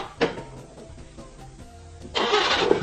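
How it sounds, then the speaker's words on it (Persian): A Paykan car engine starts: a brief starter crank near the beginning, then the motor catches and runs loudly and steadily through the final second, close by, with no talk. "موتور روشن بکن"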